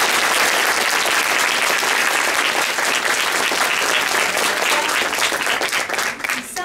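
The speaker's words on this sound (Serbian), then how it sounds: "Tako da molim za jedan veliki aplauz." An audience at a school project evening gives loud, sustained applause, a dense wash of clapping that holds steady and then thins slightly near the end.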